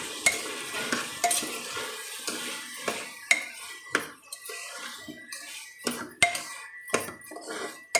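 Washed rice tipped into a pot and stirred for a home-style pulao, with irregular scraping and clanking of a spoon against the metal pot, several sharp knocks spread through the stretch, close and fairly loud.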